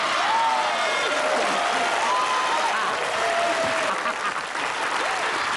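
A studio audience at a Family 100 game show claps in a loud, sustained burst. Scattered cheers rise above the steady applause.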